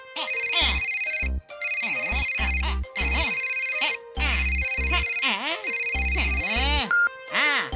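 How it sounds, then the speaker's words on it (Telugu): A cartoon telephone rings in repeated electronic bursts, loud and close, with short gaps between rings and a character's voice breaking in near the end. "ఇప్పుడు ఫోన్ ఎవరు చేస్తున్నారబ్బా?"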